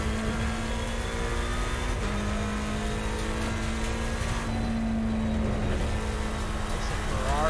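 Ferrari race cars in Assetto Corsa Competizione on the Mount Panorama circuit, their engines holding a steady high drone that shifts pitch as they accelerate, with a voice talking over them.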